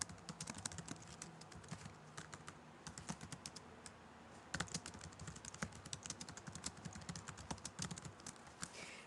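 Typing on a computer keyboard: rapid, quiet clicking keystrokes in irregular bursts, fairly faint and close, with no speech over it.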